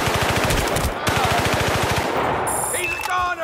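Close, loud machine gun fire in the shooter game Battlefield: Bad Company, two rapid rhythmic bursts of rattling shots separated by a brief pause, followed by clinking and metallic rattles.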